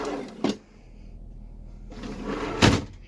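Kitchen drawers in the galley of a 2003 Tiffin Phaeton 40TGH motorhome open and close, giving two distinct sliding thumps with quiet rustling between them, recorded close up.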